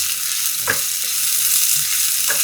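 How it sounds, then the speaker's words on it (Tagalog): Onions sauté in a hot pan with a steady close sizzle, broken by a couple of brief scrapes of a spoon or spatula. "Mag-gisa tayo ng sibuyas."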